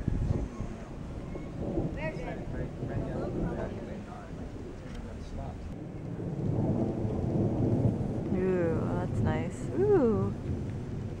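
A thunderstorm near McCloud: a long, low rolling rumble of thunder over a steady wash of rain and wind, growing louder toward the middle. Voices talk and exclaim close by near the end.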